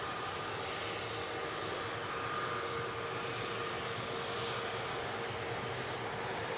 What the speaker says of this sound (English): we got the TAP Air Portugal Embraer pushing back on Matt Cam as well